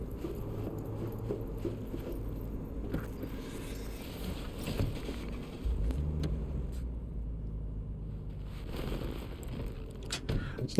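A car driving in Cyberpunk 2077, a steady low engine rumble with road noise and occasional clunks and knocks, continuous and fairly close throughout.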